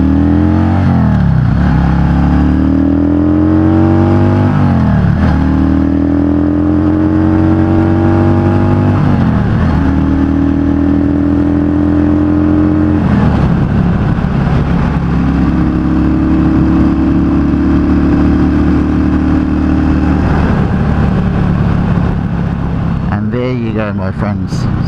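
A Yamaha V Star 650 motorcycle fitted with pod air filters accelerates hard through its gears, the loud engine note rising, dropping at each shift and climbing again, close up, with a brief roar of wind near the end.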